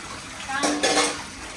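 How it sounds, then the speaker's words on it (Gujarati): Dishes and pots being scrubbed and rinsed by hand at home in the morning. There is a brief burst of clattering metal and splashing water, close and fairly loud, then it fades back to quiet room tone. "વાસણ માંજતી હે"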